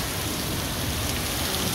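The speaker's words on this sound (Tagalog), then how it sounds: "Ang lakas ng ulan. Oh, kumukulog-kulog pa." Heavy, steady rain pours down in Switzerland, a dense continuous roar of drops hitting surfaces, with faint low rumbles of thunder blended into the downpour and no voices.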